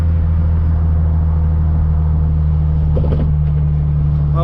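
An Infiniti/Nissan engine idles at a smooth, steady hum after throttle body programming, heard up close and continuous with no speech.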